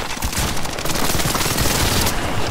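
Rapid gunfire from a Call of Duty: Modern Warfare match, dense bursts of automatic shots packed together, loud and close, running steadily without pause and with no talk over it.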